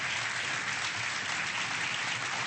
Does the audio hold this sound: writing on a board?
no